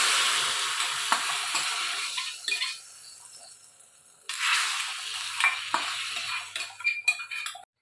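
Shallots, curry leaves and chilli powder sizzle in hot oil, a steady crackling hiss broken by occasional clinks of a stirring utensil, easing off briefly in the middle before surging back louder.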